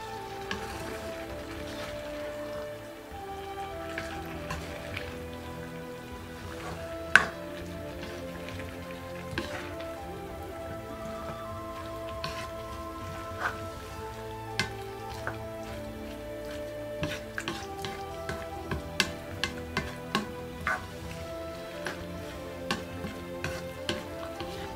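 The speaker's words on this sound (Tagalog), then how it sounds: "Hayaan po natin kumulo." Beef and bell pepper sauce simmering and sizzling in a covered pan, a soft continuous bubbling hiss with scattered small pops and clicks throughout, steady and close with no talking.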